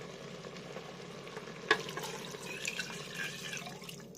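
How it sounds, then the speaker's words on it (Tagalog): Water poured into a pot of mung beans on the stove, a quiet, trickling splash that starts with a small clunk and goes on faintly. "And lalagyan na natin siya ng tubig."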